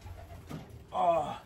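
Soft pigeon cooing, a brief low coo followed by a louder, longer rolling coo close by, with faint background noise.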